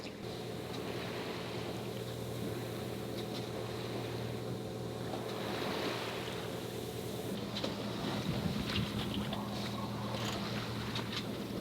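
The engine of a 40ft boat at sea off Mexico drones steadily and monotonously throughout, with water wash mixed in, a constant low rumble that never lets up.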